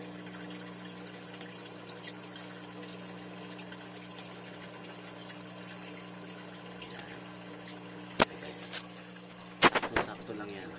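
A homemade aquarium protein skimmer runs with a steady pump hum and soft bubbling water throughout, and a few sharp knocks sound near the end.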